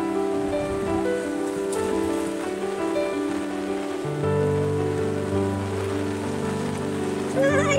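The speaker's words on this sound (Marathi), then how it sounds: "खूप पाऊस पडलाय गाईज इकडे, खूप पाऊस आहे." Heavy monsoon rain pours steadily in Mumbai in a continuous wash of noise, with faint voices and tonal sounds mixed in the background.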